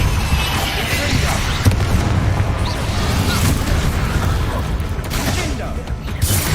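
Booming Confringo blasting spells explode repeatedly amid combat in the video game Hogwarts Legacy, a loud sustained barrage of blasts and crackling effects with spoken spell names over the top.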